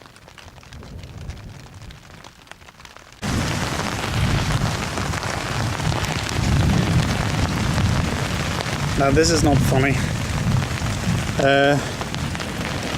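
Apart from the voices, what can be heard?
heavy rain on tarp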